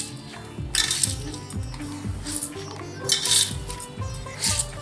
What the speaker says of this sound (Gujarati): આવી રીતે સારી રીતે હલાવીને બધું પ્રોપરલી મિક્સ કરી લેવાનું